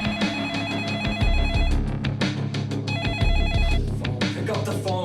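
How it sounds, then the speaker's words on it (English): An old landline telephone bell rings in repeated bursts with short pauses between them, loud and close, over a dramatic background score in a crime documentary. "Pick up the phone."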